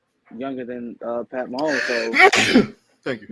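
A single sharp sneeze bursts out in the middle of a sports-talk discussion about NFL awards, loud and close, with people talking before and after it.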